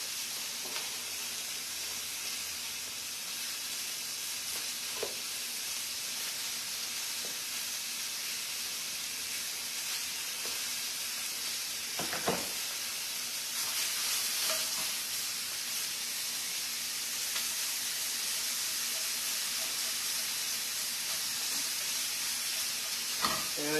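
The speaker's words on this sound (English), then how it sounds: "And this sausage is going to take forever to cook." A sausage cooking in a pan, a steady bright hissing sizzle held evenly for a long stretch, with occasional small pops and faint clinks.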